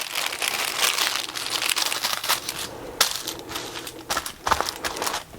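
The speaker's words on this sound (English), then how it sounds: "I need to put a piece of protective paper between the foam and the shirt." Sheets of protective paper are handled and crinkled at a heat press, close, continuous rustling and crackling with irregular louder crunches.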